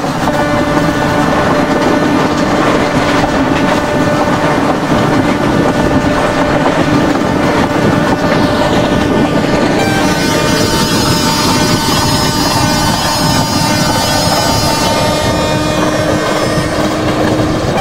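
A simulated Indian superfast express train from Mumbai CSMT toward Pune in the Open Rails simulator runs at high speed, a steady loud rumble of wheels and track noise with tonal hum, shifting brighter partway through as another train races alongside.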